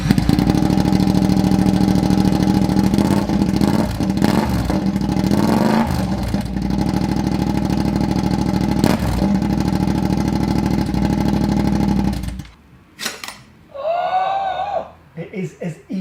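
A 2019 Yamaha MT-07 with a full Akrapovic exhaust and its end can removed runs loud at close range, a steady deep rumble with a few revs, then cuts off abruptly, followed by excited talking.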